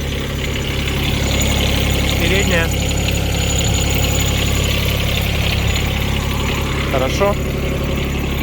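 Kubota Aste A13 small tractor idling close up, a steady loud mid-pitched diesel thrum with a knocking pulse running unbroken throughout, as someone talks briefly over it.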